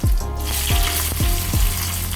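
Mustard seeds, chopped dried chillies and curry leaves sizzle in hot coconut oil in a pan, a steady close frying hiss with several sharp bursts as ingredients hit the oil.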